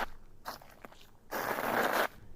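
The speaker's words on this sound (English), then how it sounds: "These are footsteps in gravel." Footsteps crunching in gravel, slowed and speed-modulated, heard as a few short gritty scrapes followed by one long, louder crunch that stops suddenly, with quiet gaps between.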